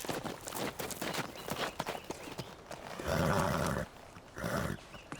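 Horse hooves clip-clop steadily in a dramatized Seljuk-era scene, the rhythmic hoofbeats close and fairly loud at first, later joined by a louder, broader rumbling passage.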